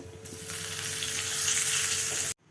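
Asafoetida, mustard seeds, chana dal, dried chillies and curry leaves sizzle and crackle loudly in hot oil for a tomato chutney tempering, a steady close frying hiss that stops abruptly.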